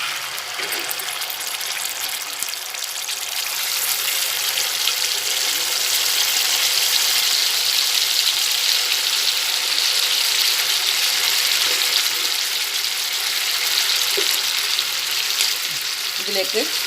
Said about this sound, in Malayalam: ചൂടായി കഴിഞ്ഞാൽ ഈ കുരു ഇതിലേക്ക് ഇട്ട് കൊടുക്കാം.